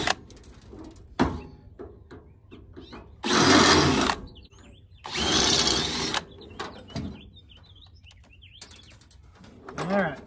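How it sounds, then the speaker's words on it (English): A power drill drills out the rivets on a Coleman and Fleetwood pop-up camper trailer in two loud, close bursts of a couple of seconds each, with clicks and rattles of handling between them and a short whir at the end. "I need to drill all these rivets out."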